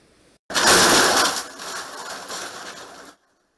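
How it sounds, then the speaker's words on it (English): A house's first floor being smashed into its basement during demolition at an eroding beach bluff, a sudden loud crashing burst of breaking wood and debris that rumbles on for about two and a half seconds before stopping. "That sound is what's left of the first floor being smashed into the basement."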